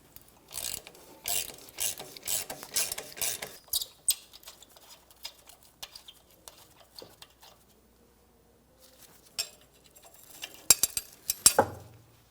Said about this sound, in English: I can use my ratchet on the back side.